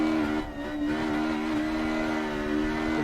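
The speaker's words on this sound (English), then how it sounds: "Third gear, wheel spinning still as we go over the bridge." Simulated engine of a Ford Escort Mk1 race car in Assetto Corsa, pulling in third gear with wheels spinning over a bridge: a steady, buzzing engine note holds at one pitch, loud and close, with no voices.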